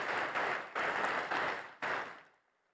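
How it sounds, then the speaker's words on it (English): A summit audience applauds the event partners with a dense burst of clapping that runs in a few waves and then fades out near the end. "Please, let's give them a very big round of applause."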